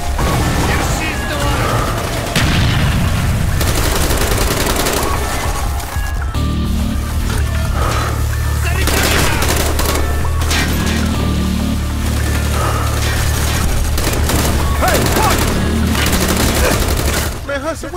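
Sustained gunfire in the final level of Call of Duty: Black Ops: dense bursts of automatic rifle fire and booms continue throughout, loud and close, with soldiers shouting over the shooting.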